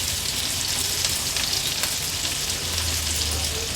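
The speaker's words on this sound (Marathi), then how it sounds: "कांदा तेलावर थोडासा परतून घ्यायचा आहे।" Half an onion sautéing in hot oil makes a dense, continuous sizzle and crackle, close and even throughout, with a faint low hum underneath.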